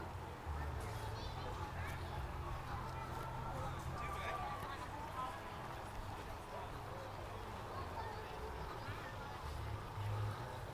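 An old narrowboat engine, fleet number 111, idles at a canal boat festival in Burton on Trent, a low steady thudding throb under busy crowd chatter and children's voices.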